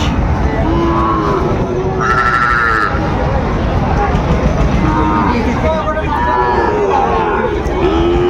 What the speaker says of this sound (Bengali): বেশ সুন্দর গরুগুলো সংগ্রহ করছে শাহাবুর ভাই